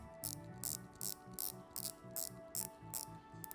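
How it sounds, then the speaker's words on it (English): Rotating bezel on a Venezianico Nereide GMT with a Seiko NH34A movement being turned: about a dozen crisp, evenly spaced ratcheting clicks, close and clear, with no talk. "Here's the bezel action."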